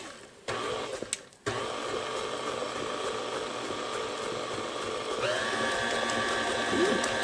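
An electric mixer beating sugar cookie dough in a home kitchen, a steady close whirring motor hum with a brief stop and restart near the start and a slight rise in pitch later.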